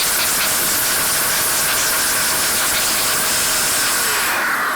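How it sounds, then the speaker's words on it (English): A hair blower blasts air through an Andis US Pro hair clipper to clear out loose hair, a loud, continuous close-up hiss that holds steady throughout and drops away at the very end. "the great thing about the hair blower, it literally blasts out all those loose hairs that are lodged"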